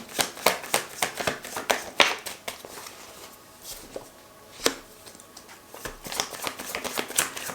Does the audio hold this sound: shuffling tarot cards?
yes